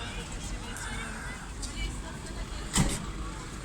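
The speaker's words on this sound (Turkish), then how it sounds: "Arka trafik çok kötü." Heavy road traffic of cars and buses crawling past an earthquake-collapsed building in Manavkuyu, İzmir, with construction machinery nearby; a dense, steady rumble with a brief louder pass near the end and faint voices in the background.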